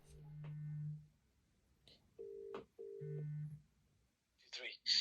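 Electronic call tones play through a Samsung Galaxy Watch 6 Classic (47mm) speaker: steady low beeps in separate bursts with short pauses, then a brief voice at the end.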